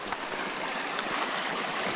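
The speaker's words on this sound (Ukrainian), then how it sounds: "тут ще один струмочок впадає в річку" A small stream flows into a river in the mountains, making a continuous broad rushing and babbling of water, steady and close, with no voices.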